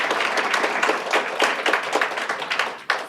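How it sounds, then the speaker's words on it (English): Steady applause from a crowd at an initiative launch event, many hands clapping together in a dense, continuous patter that fades briefly near the end. "You want to give them a little applause?"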